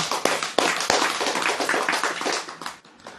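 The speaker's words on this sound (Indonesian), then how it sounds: "Tepuk tangan untuk kalian, ya." An audience claps hands at a religious talk: a short, moderately loud burst of claps with a few sharp separate smacks at the start, then fading out.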